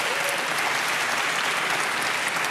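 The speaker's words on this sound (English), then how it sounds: "of course, applause for these answers." Audience applause at the Young Inventors Prize 2025 ceremony: steady, dense clapping from a full room, sustained at even loudness throughout without pauses.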